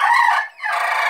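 A chicken clucks close by on a rural homestead, two loud bursts split by a brief pause, with no other sounds around them.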